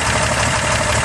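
A Nissan 2.8 liter stroker engine in a Fairlady Z idles up close, a steady loud rumble with no pauses and no voices.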